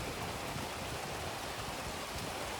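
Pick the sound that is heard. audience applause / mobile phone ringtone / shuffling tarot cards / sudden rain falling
sudden rain falling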